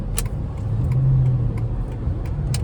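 Steady low rumble of a Chrysler 300 SRT8 engine and road noise from inside the car in rush hour traffic, with a few faint clicks and rattles.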